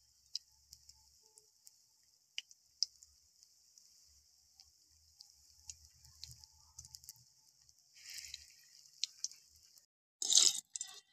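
Egg and potato chops frying one by one in hot oil, a quiet steady sizzle with scattered small pops and ticks, swelling into a louder hiss near the end as another piece goes in.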